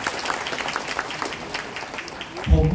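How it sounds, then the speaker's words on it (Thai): Audience applause at a celebration for a Thai television show's 200th episode, scattered clapping mixed with crowd sounds, then a loud burst of a voice breaking in near the end. "เราให้ปรบมือให้พวกเรา"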